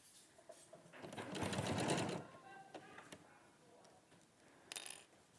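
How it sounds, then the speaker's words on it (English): A sewing machine stitches in a single burst of rapid, whirring motor noise that builds and then stops, followed by small clicks and handling sounds, with a brief mechanical rattle near the end. "So we're just going to sew."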